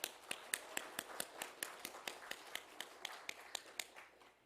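A church congregation applauds retiring members at a year-end Sunday worship service, heard as faint, evenly spaced claps in a steady rhythm, all at roughly the same level and fading slightly at the end.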